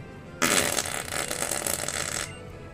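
A hand-made armpit fart sound, one loud sustained blurting noise of about two seconds that starts abruptly and then cuts off, close and alone.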